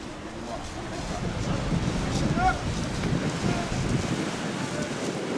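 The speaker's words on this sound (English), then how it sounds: "Just listening to them waves coming in" Ocean waves roll onto a small beach near The Needles, a low, continuous surf wash with gusts of wind buffeting the microphone.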